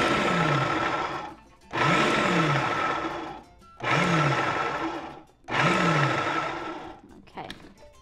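A blender whirs loudly in four pulses of roughly two seconds each, chopping ingredients for lumpia filling, with the motor revving up and winding down between bursts and a short clatter at the end.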